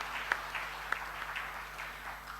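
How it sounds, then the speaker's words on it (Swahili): Applause from the audience at an engineers' annual general meeting for the board chairman, a brief patter of clapping at moderate distance, fairly even throughout. "Naomba tuongeze makofi kwa mwenyekiti wetu wa bodi."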